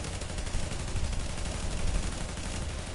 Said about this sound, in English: I don't know how many grenades were down there, but I think all four of us threw them